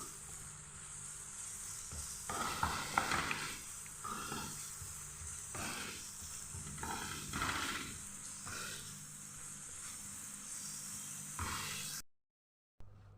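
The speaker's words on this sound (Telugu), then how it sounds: "ఇప్పుడు మనం ముందుగా వేయించుకొని పెట్టుకున్న ఇవన్నీ కూడా వేసుకొని బాగా కలుపుకోవాలి" Carrot halwa with pre-fried ingredients is stirred in a pan, giving a steady sizzle and frying hiss broken by repeated scraping, clattering stirring strokes, before the sound cuts off abruptly near the end.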